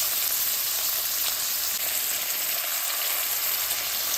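Onions sizzling in hot oil with garlic, mustard seeds and cumin, a steady bright crackling hiss that stays close and even throughout.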